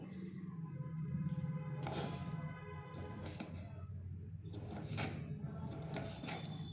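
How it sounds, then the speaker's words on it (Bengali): A knife chopping tomatoes into small pieces for a plain potato-tomato curry, with a series of irregular soft knocks on a board, close and fairly quiet. "টমেটোগুলোকে আমি একটু পিস পিস করে কেটে নেব একদম ছোট ছোট করে কেটে নিতে হবে"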